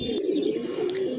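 Domestic pigeons flying up over a big mosque give a soft, close coo lasting about a second, with a couple of faint flutters or clicks above it and no voices.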